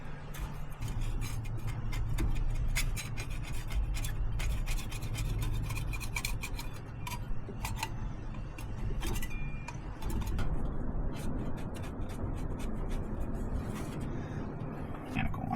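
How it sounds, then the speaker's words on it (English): A scraper rasps old gasket material off the engine of a 1969 Chevy C20 pickup in steady, gritty strokes, close and continuous over a low background hum, with no talking. "Now I should just be able to scrape that whole gasket off is what I'm thinking."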